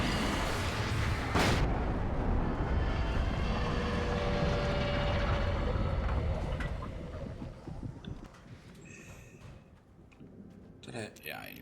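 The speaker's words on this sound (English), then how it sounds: "Yeah, I used my flashbang." In Alan Wake, a flashbang goes off with a loud, broad blast at the start, followed by a long rumbling roar that slowly fades into quieter scattered sounds, with a voice speaking at points.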